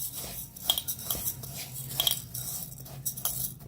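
A utensil mixes rice and urad dal in a bowl. Faint, soft scraping and light clinks come in irregular bursts, close up and quiet, with no talking.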